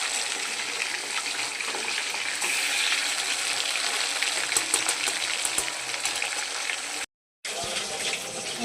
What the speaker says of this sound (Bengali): বন্ধুরা, মাছটা আমি ভেজে নিচ্ছি আলাদা করে।